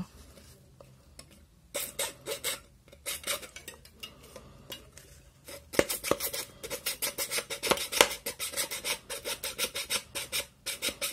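A jeweller's saw rasps through metal to cut a hole, a close, steady run of quick scraping strokes that pauses briefly and then resumes in longer, denser bursts.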